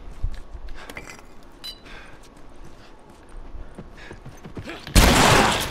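A gunshot rings out in The Last of Us Remastered, set in a hotel: scattered faint clicks and shuffles lead into one sudden, loud, close blast near the end.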